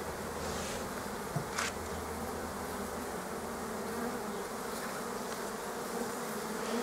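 Honeybees on a hive frame buzz steadily around a queen, a close, continuous hum with no voices over it.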